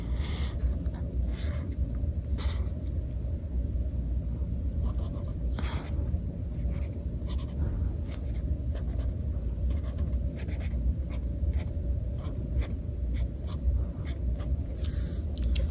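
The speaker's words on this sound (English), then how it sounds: "It's kind of hard to see or draw on the paper, but that's okay." A pen scratches across paper while a snowflake is drawn, making a steady run of close, soft strokes and taps for several seconds with no talking.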